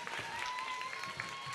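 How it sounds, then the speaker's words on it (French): Audience applause at a lively Ayidissa show, a steady wash of clapping with no break across the moment, moderately loud and close, with a bright tone running beneath it. "est-ce qu'on peut l'applaudir bien"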